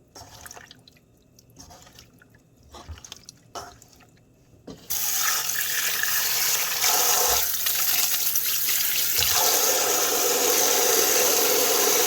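Freshly caught gar fish being rinsed: a few drips and light splashes, then a strong, steady rush of tap water that continues loudly to the end.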